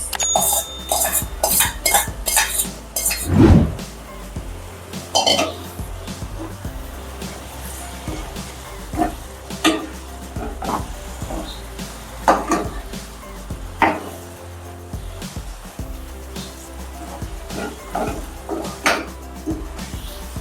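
A spoon scrapes and clinks against a pan while cauliflower is stirred together with spices, the irregular knocks and scrapes coming close and fairly quiet, with some talk over them.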